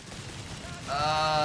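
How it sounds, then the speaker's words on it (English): Small arms gunfire in the real-time strategy game Company of Heroes 3, a dense sustained burst of shots swelling up partway through and staying loud to the end, mixed with game effects. "small arms fire is going to kill it"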